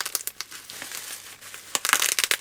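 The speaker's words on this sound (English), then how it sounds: "Let's unwrap this. I'm sure if you're able to see through the bubble wrap you can already tell what's in here." Christmas lights from 2005 are unwrapped from bubble wrap, with close crinkling, crackling plastic and a few sharp pops that grow denser near the end and no voices.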